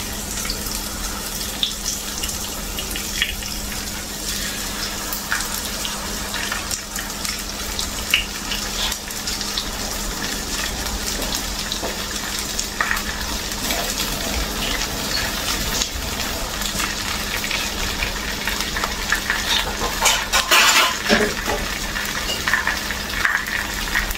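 Pieces of chital fish go into hot oil in a kitchen, producing a steady, fairly loud hiss and sizzle that runs unbroken throughout, with no voices.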